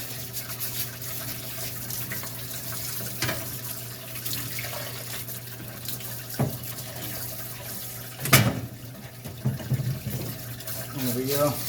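A parts washer rinses grease from the wheel hub of a 1985 Mercedes 300CD with a steady flow of running water and a low hum underneath. Occasional clunks and scrapes come through, and a voice talks now and then.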